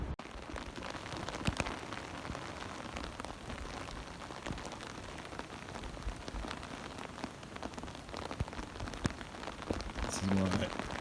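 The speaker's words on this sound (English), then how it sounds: "is why I bring an umbrella when you get stuck out in the rain" Rain falls outdoors on an umbrella during a backpack hunting hike, a steady, dense patter of drops that holds evenly for the whole stretch.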